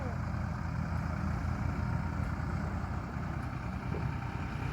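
A tractor engine running steadily at a low, even idle-like rumble, moderately loud and continuous with no clear changes in pace, during a fodder-making job in rural Punjab.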